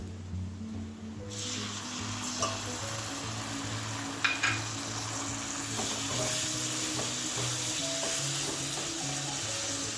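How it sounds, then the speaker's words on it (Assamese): Tomato puree hits a frying pan of capsicum, and a sudden loud hiss bursts out after a quiet start, then settles into a steady sizzle with sharp clinks and scraping from stirring. "আৰু লগতে মই এতিয়া টমেটো পিউৰিখিনিও দি দিছোঁ।"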